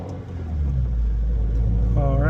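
A 2022-or-later Subaru WRX fitted with a Perrin low-profile intake rumbles as it pulls out of a garage, a low engine drone swelling near the start and holding steady, with a brief rising whine near the end.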